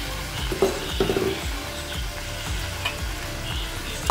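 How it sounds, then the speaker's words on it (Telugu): Chopped onions and green chillies fry in hot oil with a constant crackling sizzle, broken by repeated scraping strokes of a spatula stirring the pan, close and clear with no talking. "ఆయిల్ వేడెక్కింది కదండి, ఇప్పుడు దీనిలో ఇందాక కట్ చేసుకున్న ఉల్లిపాయలు అలాగే పచ్చిమిర్చి వేసుకుందాం."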